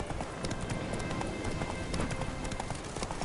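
A horse gallops in a PS4 video game, with rapid, steady hoofbeats that sound close and continuous beneath the game's background sound.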